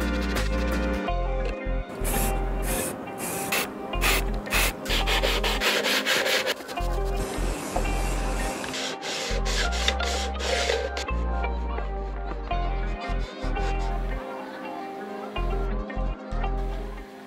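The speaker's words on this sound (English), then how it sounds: "a few rounds of filler primer spray with sanding in between" Continuous rubbing of sandpaper over a 3D-printed Gridfinity baseplate coated with wood filler, close and steady for the whole stretch, with a musical backing playing along.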